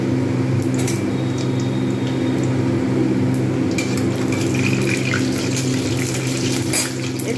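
Panch phoron spices fry in hot soybean oil in a kadai, giving a loud, steady sizzle with scattered light crackles throughout.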